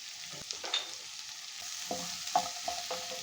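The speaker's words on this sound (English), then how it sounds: "saute for 2 minutes on medium heat" Bitter gourd sautéing on medium heat in a pan: quiet sizzling with light, scattered stirring scrapes and clinks, close and soft.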